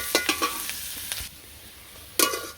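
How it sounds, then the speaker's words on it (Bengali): Onions fry in oil on a village stove with a continuous sizzle, punctuated by several quick clattering stirs early on and another loud stirring burst near the end. "এখন চুলাই একটু পেঁয়াজ দিয়ে দিচ্ছি, পেঁয়াজগুলো লাল লাল করে ভেজে নামিয়ে নেব"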